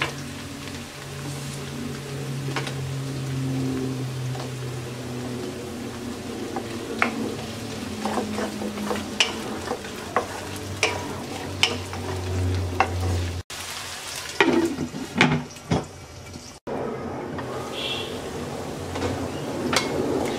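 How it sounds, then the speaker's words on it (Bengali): Potatoes added to softened onions fry in a pan for a curry with okra, a steady low sizzle under repeated sharp scrapes and taps of a spatula stirring, close and moderately loud with no talking. "এবার পেঁয়াজের সাথে আমরা আলুটা দিয়ে 5 মিনিট কষিয়ে নেব"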